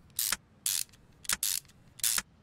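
A ratchet tightens new screws on a car part in Car Mechanic Simulator 2021, giving five short, crisp bursts of clicking in quick, uneven rhythm over a quiet background.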